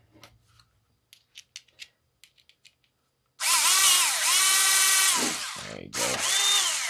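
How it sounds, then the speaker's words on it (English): A power drill pre-drills a pilot hole in cedar for a birdhouse, a loud steady whine that rises and dips as the bit bites, after a few light clicks and taps. "Pre-drill it."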